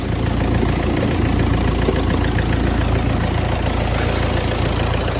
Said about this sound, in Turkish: Motorun sesini duyalım diye